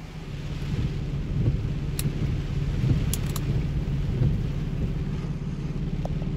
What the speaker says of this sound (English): It also hasn't stopped raining since I got here.